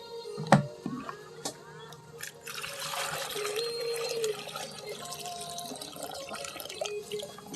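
Water trickling and pouring into a rabbits' water container on a small farm, starting with a few drips and clunks, then a steady close splashing fill that rises in pitch before tapering off.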